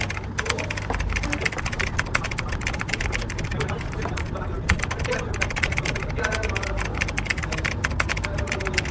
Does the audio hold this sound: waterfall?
no